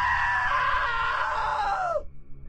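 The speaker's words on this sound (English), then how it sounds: "Now that was a great scream." A drawn-out, loud scream from a character in the video game What Remains of Edith Finch, held steady for about two seconds before sliding down in pitch and cutting off, followed by a low rumble.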